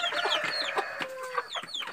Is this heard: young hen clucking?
yes